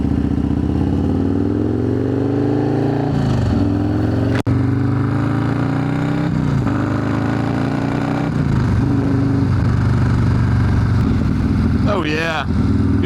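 A Perewitz custom Harley-Davidson Softail Slim rumbles steadily at an easy cruising pace, with a deep, loud, continuous engine note that rises and falls a little under wind, and a voice talks over it.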